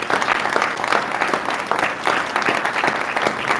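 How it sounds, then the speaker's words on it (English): Dense, loud audience applause at a community symposium, greeting the fire chief of North County Fire: steady clapping from a crowd that continues without pause. "I just hope you give a really good round of applause for my chief, fire chief of North County Fire"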